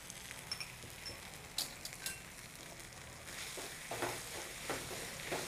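Masala of chili powder, turmeric and dhania powder frying in oil, a soft steady sizzle with occasional light stirring scrapes and clinks, close and quiet, no talking.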